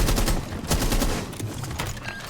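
Rapid gunfire in a video game match, a dense loud burst of overlapping shots with heavy booms and crackle, continuous through the whole short stretch.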